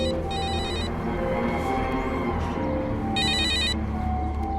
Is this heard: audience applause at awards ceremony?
no